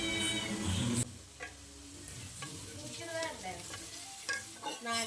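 Chicken curry cooking in a pan: a burst of loud sizzling frying, then quieter sizzling with scattered scraping and clinking from stirring, close and without talk.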